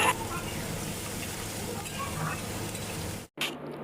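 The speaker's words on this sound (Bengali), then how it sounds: "পেঁয়াজটা খুবই ভালো করে নেড়ে চেড়ে নেব যতক্ষণ না সেটা একটা লালচে কালার হয়ে যাচ্ছে।" Chopped onions for Bengali chicken kosha sizzle steadily in a pan while being stirred, a close, continuous frying hiss that cuts out briefly near the end and then resumes.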